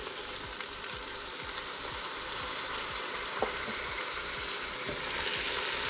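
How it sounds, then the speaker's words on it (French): Chicken tajine with saffron sizzling and browning in a pan: a steady, close frying crackle that grows slightly louder toward the end, with faint stirring ticks. "Et je vais laisser dorer quelques minutes."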